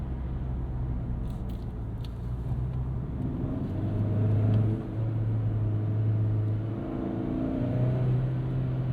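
A 2023 Hyundai Santa Cruz with its 2.5-litre engine accelerating, a steady muffled in-cabin drone that rises in pitch in stretches, heard alone without talk.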